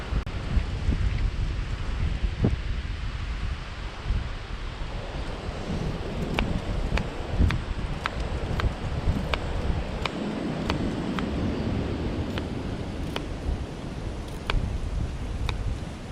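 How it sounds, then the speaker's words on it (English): Wind gusts outdoors in woodland, a steady, fairly faint rushing roar with occasional sharp clicks over it, no one speaking. "the old wind's getting up"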